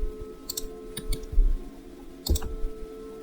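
Computer mouse clicks sound during kitchen cabinet modelling in Revit, a few sharp close taps spread through a quiet room with a low steady hum underneath.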